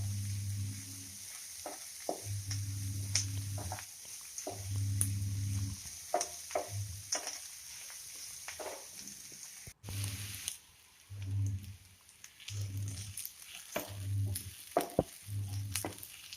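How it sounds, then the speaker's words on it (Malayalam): Onions sautéing in a pan for fish chukka with green chillies: a soft, continuous sizzle broken by repeated spoon scrapes and clinks, with an intermittent low hum coming and going. "ഉള്ളി നല്ലതുപോലെ വഴറ്റിയെടുക്കണം."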